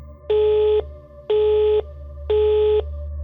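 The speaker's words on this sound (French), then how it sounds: "Elle prend son téléphone et appelle à de nombreuses reprises." Three evenly spaced electronic tones sound in a steady pattern, each lasting half a second, like a telephone ringing on the line with no pickup.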